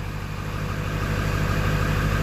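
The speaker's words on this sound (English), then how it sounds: "We'll go back to the engine. Like I said, purring along beautifully." A 2000 Ford F-250 XLT Super Duty with the 7.3 diesel idles steadily close by, a low, even rumble with a constant throb and no voices.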